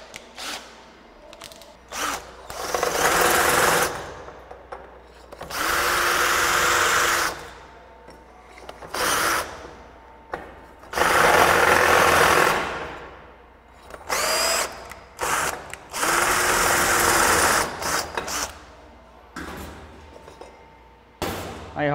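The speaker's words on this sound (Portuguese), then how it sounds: "Aqui, em questão de segundo, eu já consigo fazer a furação." A power drill bores holes into a motorcycle engine casing in repeated loud whining bursts of a second or two, separated by brief pauses, with clinks in between.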